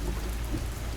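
Steady rain falls on city streets at night with a low rumble of thunder underneath, a dense, even hiss with no voices.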